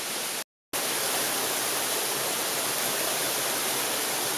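Mountain waterfall cascades in the Atlas Babori, swollen by snowmelt, roar as a dense, loud and steady wash of water, broken by one brief silent gap near the start.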